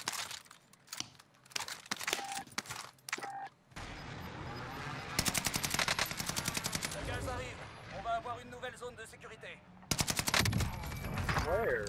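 Gunfire from a weapon in the shooter game Warzone: bursts of rapid automatic shots in rattling runs, loud and close, between short gaps with some quieter clicks and handling sounds.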